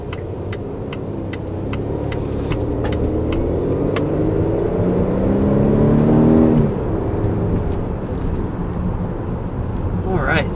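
A 2020 Volvo XC60 T6 R-Design pulls away on the road, its engine rumbling and building in pitch as it accelerates, then easing off. The sound is heard steadily from the cabin, with occasional talking over it.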